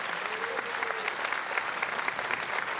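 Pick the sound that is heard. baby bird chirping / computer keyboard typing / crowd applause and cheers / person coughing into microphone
crowd applause and cheers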